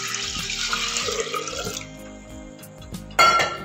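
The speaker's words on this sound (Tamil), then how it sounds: "பச்சரிசியை கழிஞ்சு அந்த தண்ணியை வந்து நம்ம ஃபஸ்ட்டு ஊற்றிக்கிறோம்." Rice-washing water pours into a pot in a steady splashing stream for sweet jaggery pongal, then stops and trickles off, followed by a sudden short splash near the end.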